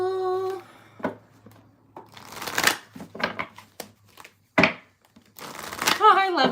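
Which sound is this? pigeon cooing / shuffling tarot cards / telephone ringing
shuffling tarot cards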